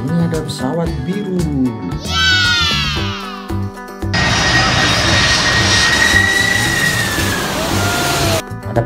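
A toy airplane gives off a whirring, droning engine sound with a rising whistle, mixed with electronic tones and a child-friendly voice talking.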